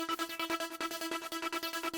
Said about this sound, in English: So we're going to take an ARP that sounds like this